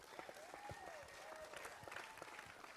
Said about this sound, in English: give a round of applause for all the competitors